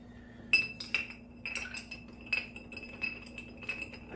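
Ice cubes clinking against a glass while an old fashioned is stirred, about half a dozen bright, close clinks in an uneven rhythm over a low background hum.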